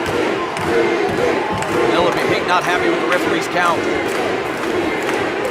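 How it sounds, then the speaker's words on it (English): A women's wrestling arena crowd cheers and roars loudly while a commentator talks over the din, with thuds and slams from the ring mixed into the sustained noise. "Crowd getting behind her again"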